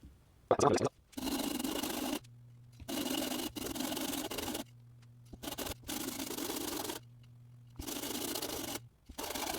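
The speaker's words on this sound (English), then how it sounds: "Now that the tops of the frets are filed or sanded and even" Ukulele frets being sanded level on sandpaper, a dry rubbing rasp in several long strokes separated by short pauses, close and fairly loud, with no talking.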